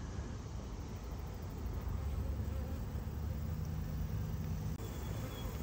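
Honey bees swarming over an overcrowded hive, a dense continuous buzz that stays loud and close throughout, with no one talking.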